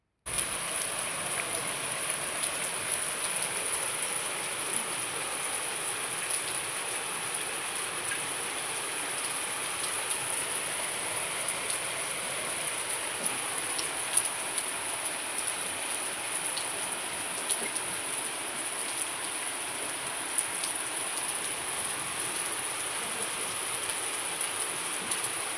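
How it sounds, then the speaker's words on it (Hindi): Heavy rain pours down outside a home in Jammu at night, a steady, dense hiss of falling water that continues evenly throughout without a break. "फिर आ गई थी बाहर तेज़ बारिश"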